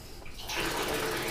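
Hot water from a gas water heater bursts from a tap in a short, steady hiss of flowing water that starts abruptly and continues, with no voices.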